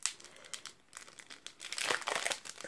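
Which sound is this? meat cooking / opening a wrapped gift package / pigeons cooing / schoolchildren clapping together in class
opening a wrapped gift package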